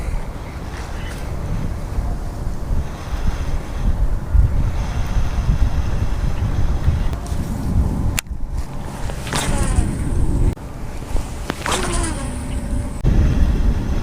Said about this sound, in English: this wind wasn't blowing directly in my face